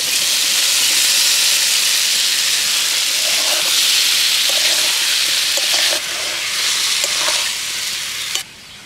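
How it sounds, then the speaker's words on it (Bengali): Jackfruit and potato frying and being stirred in spiced oil, a loud steady sizzle and hiss throughout with occasional scrapes of stirring, no talking. "এঁচোড় আলু দিয়ে একটু আমি নেড়ে ছেড়ে নিলাম"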